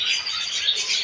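A flock of pigeons and other birds seen from a third-floor view in Bulacan, giving a steady high, bright chirping and squawking wash close by, with no voices.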